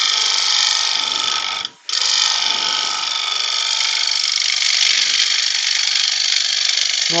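Bowl gouge taking a steady cut in wood on a turning piece, a loud continuous rough scraping hiss that stops briefly once before carrying on, with no voices.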